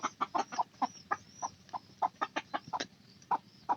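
A growing rooster kept with hens and chicks on a farm clucks in a quick series of short, close, moderately loud notes, with no speech over it.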